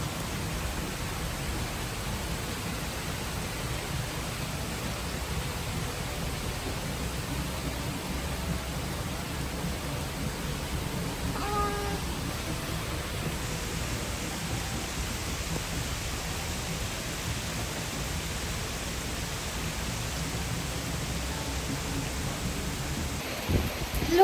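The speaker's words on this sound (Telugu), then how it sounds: "ఫుల్ అంటే ఫుల్ వర్షం పడుతుంది, దంచుతుంది" Heavy rain pours steadily outside on a rainy evening, a dense, unbroken hiss that holds at the same loudness throughout with no voices over it.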